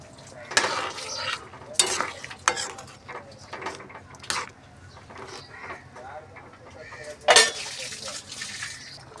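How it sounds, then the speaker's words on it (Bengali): A pot of lentil dal with fried bitter gourd is stirred with a utensil, giving a few sharp metallic scrapes and clinks against the pot amid softer wet stirring, close and moderately loud. "আমি ওর মধ্যে ভাজা করলা বা উচ্ছেগুলো দিয়ে দিয়েছি। এবার একটু ভালো করে মিশিয়ে নেব।"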